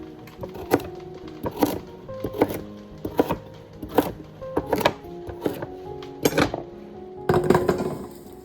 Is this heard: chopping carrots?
yes